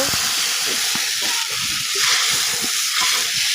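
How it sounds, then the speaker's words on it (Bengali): Steady, bright sizzling and hissing of spice masala frying in a pan, with soft scraping stirs underneath and no talking. "আমি কিন্তু মশলা একটু ভেজে নিচ্ছি"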